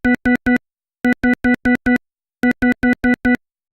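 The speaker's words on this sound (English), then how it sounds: "A 5-round burst with this gun should sound something like this" Synthetic beep tones stand in for five-round gun bursts in Battlefield 1, heard as three separate bursts of rapid evenly spaced tones with short pauses between them, loud and clean with no talking.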